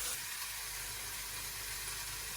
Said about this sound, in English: the chicken needs to sizzle when you put it on there